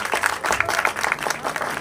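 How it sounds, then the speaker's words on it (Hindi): A church congregation claps at a Sunday service, with rhythmic, fairly close hand claps repeating in quick bursts throughout. "आए खुदा के लिए तालियां बजाएंगे।"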